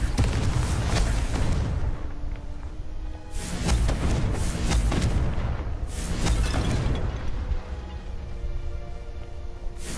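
Repeated Confringo spell blasts in Hogwarts Legacy, a series of heavy booming explosions with rumbling decay, about four bursts spaced a few seconds apart.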